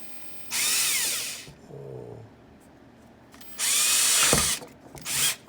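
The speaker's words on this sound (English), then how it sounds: "But let's get a drill here." A power drill fitted with a number 21 bit bores into PVC pipe in two loud whirring bursts separated by a quieter pause with a brief squeak, followed by a shorter third burst.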